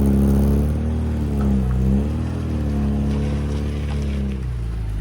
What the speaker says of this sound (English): the road legal go-kart with a body rolling out